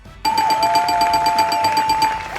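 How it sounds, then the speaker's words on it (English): A game show buzzer rings out as a sustained electronic tone, steady for about two seconds, bright and loud, with a buzzing harmonic edge and no talking. "Let me press the buzzer now and see who we will hear from next."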